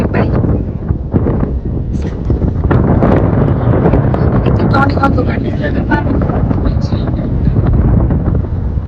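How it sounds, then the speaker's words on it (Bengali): Strong wind buffets the microphone aboard a night river launch travelling from Dhaka to Chandpur, a steady roaring rush that fills the whole stretch with gusty swells. "এই অনেক অনেক বেশি বাতাস ও মাই গড অনেক বাতাস"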